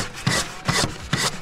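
Wooden playground equipment being sanded by hand, three even back-and-forth rasping strokes close up, steady and rhythmic with no talk.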